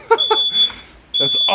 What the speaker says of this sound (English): Is that our fire alarm?